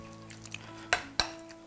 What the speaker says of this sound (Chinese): 给它搅拌均匀。